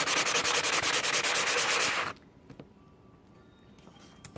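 A burr being rubbed off a tile pattern bar, giving a steady, rhythmic, fast abrasive scrubbing, loud and close, that stops abruptly after about two seconds and leaves faint handling noises.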